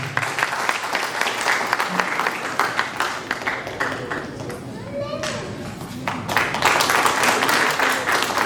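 Audience clapping at a theatre award ceremony honouring local artists, a steady wash of applause that swells near the end, with some murmuring and talk mixed in.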